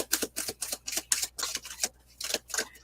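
Broken Mirror tarot deck being shuffled by hand, a rapid run of sharp card slaps and riffles in an uneven rhythm with one brief pause, close and loud with no talking.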